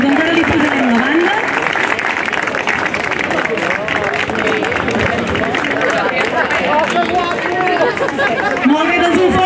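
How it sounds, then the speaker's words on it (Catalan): A crowd at the Fira del Farro in the Vall de Bianya gives loud, sustained applause during a ceremony naming the fair's padrí, with chatter and voices mixed in throughout. "un fort aplaudiment pel nostre primer padrí"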